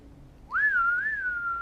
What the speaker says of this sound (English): We've got some counter whistling going on down here.